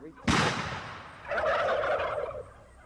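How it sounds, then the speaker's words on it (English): A sudden loud burst of turkey gobbling, followed by a second rattling gobble call, fairly close and clear, with no talking. "the faint calls of turkeys in the distance"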